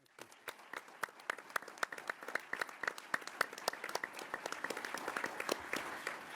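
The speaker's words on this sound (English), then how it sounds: "I'm asking that the citizens of Rochester give you and your team a round of applause" An audience at a government cabinet meeting in Rochester applauds the mayor's team, a steady patter of many clapping hands, moderately distant and fairly quiet, with no speech over it.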